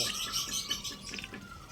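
A bird chirps faintly in a few quick, high tweets over a soft background hush, with no one speaking.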